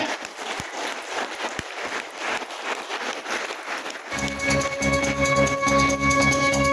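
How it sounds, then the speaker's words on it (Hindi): Crowd applause at a motivational business speech event, a dense wash of clapping that stays steady and loud before music-like tones take over in the second half. "तो आप सभी के लिए जबरदस्त ताली हो जाए।"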